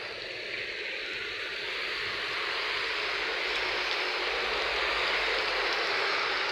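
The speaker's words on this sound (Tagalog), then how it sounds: "yung ating ulan ngayon bagaman mahina pero nakakabasa" Light rain falls steadily outdoors, a broad even hiss that swells slightly over several seconds with no voices.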